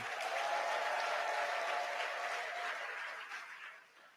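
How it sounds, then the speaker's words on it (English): Applause from the audience at an induction ceremony for newly qualified medical and dental practitioners, a dense, even wash of many hands clapping that stays steady and then tapers off over a few seconds. "Please don't let the applause die"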